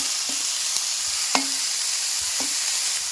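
Chopped onions sautéing in a pan for a restaurant-style mushroom roast, with a steady close sizzle broken by several sharp clicks of a spoon stirring against the pan, no talking.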